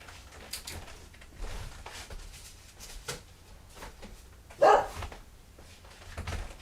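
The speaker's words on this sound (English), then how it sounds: "He's barking at you." A dog barking indoors from across a room during a live craft show: several sharp, moderately faint barks at irregular intervals, one louder bark near the end, with no talk.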